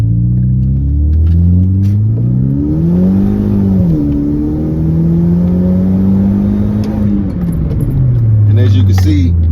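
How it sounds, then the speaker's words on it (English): A Kia Optima with two straight pipes roars under hard acceleration, its loud, close engine note climbing and sweeping through rising harmonics for several seconds before easing back to a deep, steady rumble. "Like, man, this thing rips every time. You floor it and I'm out of there."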